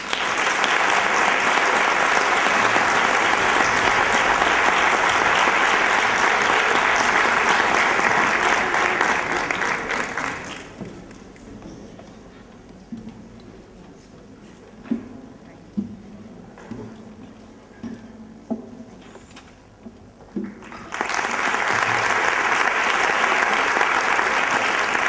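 Audience applause at a music competition in Nerva, loud and dense for about ten seconds, then dropping to a quiet room with a few scattered knocks before a second full burst of clapping swells up near the end.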